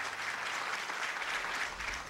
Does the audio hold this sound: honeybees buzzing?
no